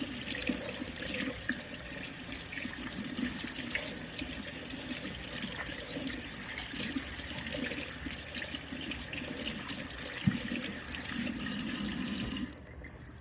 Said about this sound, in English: That's the water in the background.